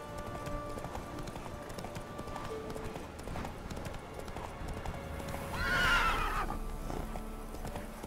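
Horse hooves of a horse named Roach trotting through wilderness in the video game The Witcher 3, with a rhythmic clip-clop throughout and a louder neigh near the end, over ambient game sounds.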